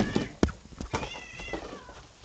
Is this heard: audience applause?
no